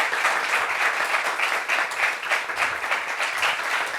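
A TV studio audience gives a guest a steady ovation, dense clapping holding at an even level throughout with no break.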